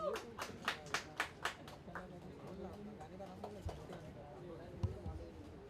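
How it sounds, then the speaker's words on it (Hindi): Audience applause at a book launch event, a burst of clapping in the opening two seconds that quickly fades under ongoing chatter and voices. "Just put your hands together for Nakash Aziz."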